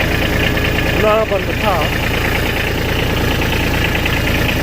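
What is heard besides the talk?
Kubota B2601 tractor engine idling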